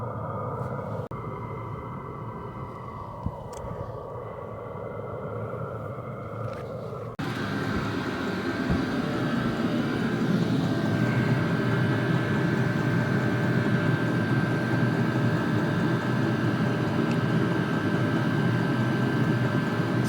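Vevor diesel air heater starting up: a faint hum at first, then a louder steady whirring drone with a constant tone that runs unbroken for the rest of the clip, no one speaking.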